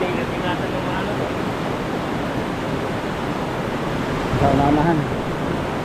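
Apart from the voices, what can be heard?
strong river current flowing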